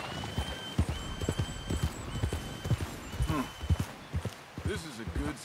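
Horse hooves clop in Red Dead Redemption 2, an uneven series of close hoofbeats mixed with people talking throughout.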